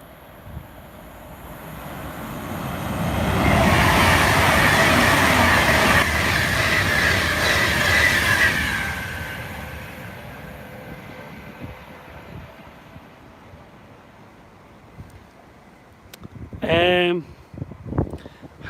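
A Pendolino train passing nearby, its rumbling roar rising, holding strong for several seconds and then fading, followed later by a brief squealing burst, with a person talking over parts of it.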